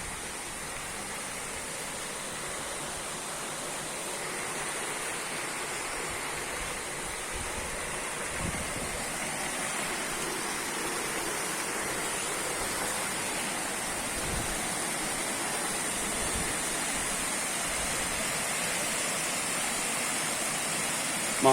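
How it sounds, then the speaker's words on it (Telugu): A water fountain splashes in a steady, even rush of falling water, loud and close, holding unbroken and alone throughout without voices. "బ్యూటిఫుల్ వాటర్ ఫౌంటైన్ అండి, చూడొచ్చు."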